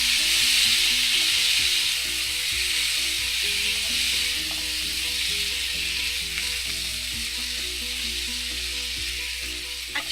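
Potatoes hit a hot skillet with coriander for an aloo subzi, setting off a loud, continuous hiss of frying that stays steady for the whole stretch, with faint stirring scrapes beneath.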